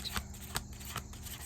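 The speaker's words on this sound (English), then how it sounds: "Been having a little bit of a hard time shuffling." A deck of tarot cards is shuffled close up, giving three or four quick, crisp riffling bursts in an even rhythm, with no talking.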